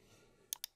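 A computer mouse clicks twice in quick succession on an OK button, crisp and close against a quiet background.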